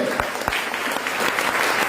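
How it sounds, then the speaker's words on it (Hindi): An audience at a stage event in Balaghat, Madhya Pradesh, breaks into loud, dense applause, a burst of many hands clapping close by for a couple of seconds. "जोरदार तालियां"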